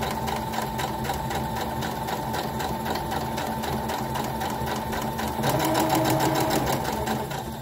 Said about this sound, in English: And then I'll continue sewing.